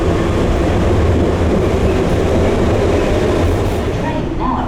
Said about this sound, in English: The train now approaching is to Heathrow Terminals 1, 2, 3 and 5.